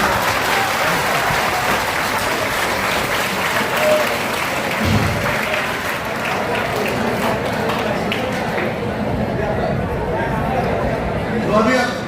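Indoor audience at a college talk by an education expert clapping steadily throughout, with crowd chatter and voices mixed in under the applause.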